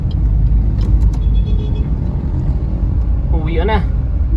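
Busy road traffic with cars passing close by, a steady loud engine rumble and road noise, with a horn-like tone near the end and a person talking over it.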